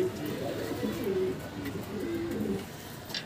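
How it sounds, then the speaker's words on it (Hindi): Pigeons at a water drinker coo softly in a low, repeated burbling rhythm, fairly close but quiet, with faint background ambience. "इसका तो पानी पी रहे है कबूतर"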